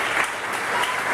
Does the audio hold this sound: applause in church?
yes